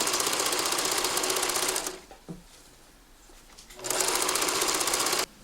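A sewing machine stitches ribbon onto a blouse in two loud, rapid, steady bursts, with a short quiet pause between them and nobody speaking.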